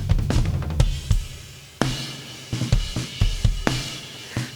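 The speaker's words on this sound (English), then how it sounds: "Let's add in some drum reverb." Irregular drum kit hits, thumping low drums and bright cymbal-like crashes, each trailing off into a roomy added reverb tail, played alone.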